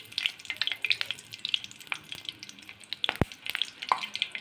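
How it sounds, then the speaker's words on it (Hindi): Whole cloves, green cardamom pods and a cinnamon stick frying in hot oil for a chicken lemon karahi, a steady close crackling sizzle with sharp spitting pops scattered throughout and no talking. "ये डाल दें लौंग, छोटी इलायची और दालचीनी का पीस। इसे बस 1 मिनट कुक करेंगे।"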